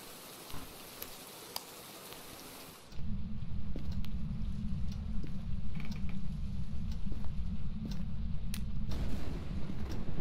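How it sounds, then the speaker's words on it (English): Thunder rumbling in the ghost-hunting game Phasmophobia, a sudden loud low roll that swells in and sustains as a heavy continuous rumble with faint crackles above. "the thunder just scared me"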